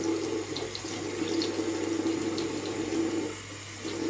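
Running tap water pours steadily over a makeup brush into a sink, a loud, even rush lasting several seconds with a slight dip near the end and no talking.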